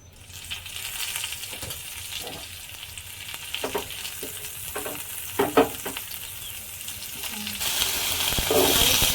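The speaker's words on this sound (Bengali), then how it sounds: "আমি এবার ভেজে নেব" Potatoes frying in hot mustard oil with turmeric and a little salt, a steady close sizzle with occasional stirring clinks and scrapes, no one talking.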